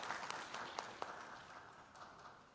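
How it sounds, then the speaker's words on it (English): Audience clapping at an annual general meeting, fairly faint and diffuse, with a few sharper individual claps standing out early before it thins toward the end. "Please clap for all those partners for the support."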